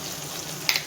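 Onions and chillies sautéing in a pan, a soft, quiet sizzle with a couple of faint crackles near the end.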